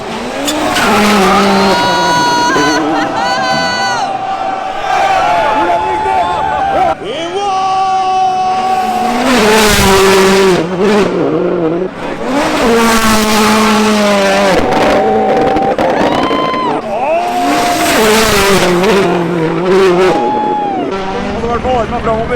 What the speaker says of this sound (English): so we can watch a couple of rally cars make some jumps